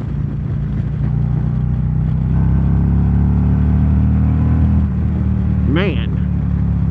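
A 2023 Harley-Davidson Road Glide with the 114 engine accelerates hard nearby, its deep low rumble rising in pitch before a brief easing, with someone talking over the engine.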